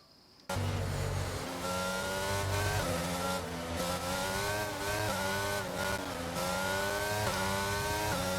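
Race cars in a racing video game pull away at a restart at Imola, engines revving hard and climbing through gears together in a loud, steady whine that starts abruptly and carries on without talk.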